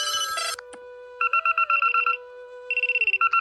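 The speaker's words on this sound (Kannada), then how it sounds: "Normal dual alarm, 16 seconds, column 3." A phone alarm ringtone called a normal dual alarm plays alone as a loud, clean electronic melody in quick repeated bursts of bright tones, pausing briefly before starting again.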